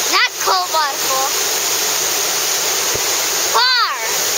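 A waterfall roars as a steady, loud broadband rush throughout, with voices talking over it at the start and end.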